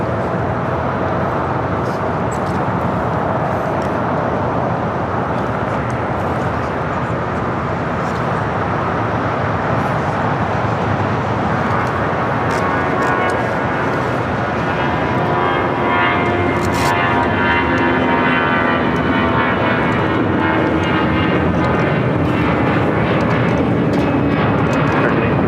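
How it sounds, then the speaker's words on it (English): A Delta Airlines A319 takes off at LAX, jet engines producing a loud, sustained rumbling roar that holds steady over the whole stretch, heard from near the runway without talk. "Next takeoff here on the south side, heading to San Antonio, Texas. Delta Airlines flight 2869. It's an A319."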